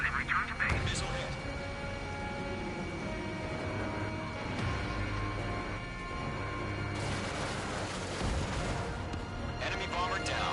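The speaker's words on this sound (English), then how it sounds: "Missile hit." Missile strikes landing on targets in a flight combat video game: several heavy booming impacts and crackling explosions spread through the clip, mixed with game effects and radio voices talking.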